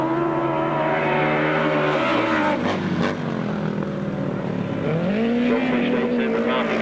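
A Suzuki GS-engined grasstrack sidecar outfit races at a 1993 600cc grasstrack meeting. Its engine drones steadily, and the pitch dips and then climbs again. A commentator talks over it throughout.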